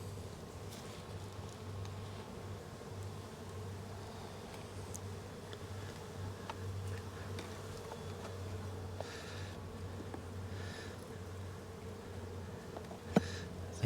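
Honeybee colony in an opened brood box humming steadily as a soft, continuous drone close by, with occasional louder passes of individual bees and a faint click near the end.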